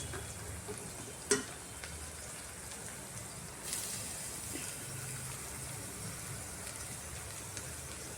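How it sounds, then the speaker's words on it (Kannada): Grated coconut frying with peanuts in a pan, a soft continuous sizzle with a few sharp clinks and stirring scrapes, faint and close. "ಇವಾಗ ಕಾಯಿ ತುರಿ ಹಾಕ್ತೀನಿ."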